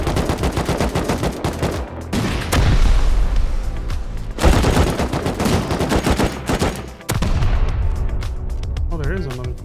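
Gunfire in the Rust survival game, aimed at a planted C4 charge, comes as loud, rapid volleys of shots and heavy booms over nearly ten seconds with brief gaps between bursts.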